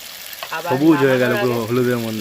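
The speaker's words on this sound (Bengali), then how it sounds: "এই সময় ধনে পাতাটা দিয়ে একটু নেড়ে নেবো" Cauliflower and potato stir-fried in a pan with coriander leaves, a steady sizzle running under a person talking close by.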